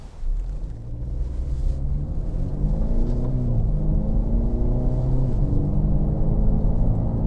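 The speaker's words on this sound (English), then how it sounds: "I'm going to get the car up to about 50 miles an hour" A car's engine hums low and steady, its pitch climbing in stepped surges as it gathers speed toward about 50 miles an hour, with a continuous road rumble underneath and no talk.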